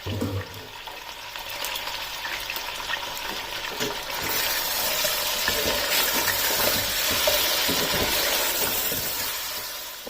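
Beef frying and being stirred in a pot while making degi biryani, a steady loud sizzle with scraping stirring noises that swells slightly midway and continues throughout.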